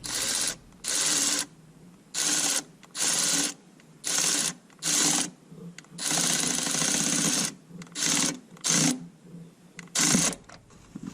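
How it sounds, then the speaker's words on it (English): A ratchet tightens a bolt on a Chevy Express 3500 van, heard as a series of rapid buzzing clicks in regular bursts about a second long with brief pauses between them, close and loud. "So you can use the ratchet."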